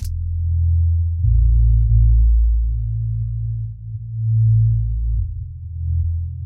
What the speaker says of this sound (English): Here's the synth bass on the intro.